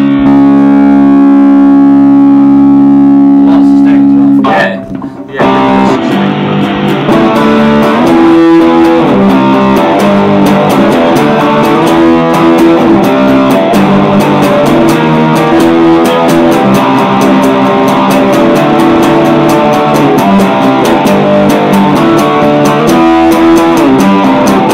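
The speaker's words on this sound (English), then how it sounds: "On the actual distortion setting on the pedal, so the amp's still on a clean channel." An electric guitar plays through the distortion setting of a Marshall JH-1 pedal into a Blackstar Fly amp on its clean channel, loud sustained buzzing chords with a short gap before a long driven passage.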